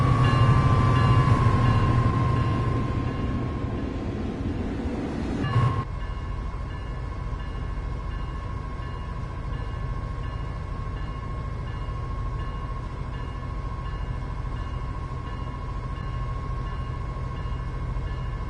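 A train in Train Sim World 5 runs in heavy rain, a steady mechanical rumble with a sustained tonal hum, a brief clunk partway through, then continuing evenly with no talk.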